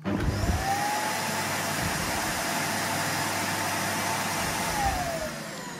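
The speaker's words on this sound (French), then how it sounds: "L'aspirateur se rallume sans souci." A Numatic Henry vacuum cleaner on low mode runs steadily with a loud, continuous whirring drone and a faint high whine, unchanged throughout.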